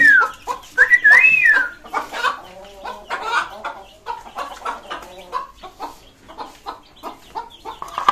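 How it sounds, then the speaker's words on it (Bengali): A rooster and Tiger-breed chickens being fed rice and wheat cluck loudly and repeatedly up close, with a whistling call at the start and softer clucks trailing off. "এখন এই মোরগটাকে আমি খেতে দেবো।"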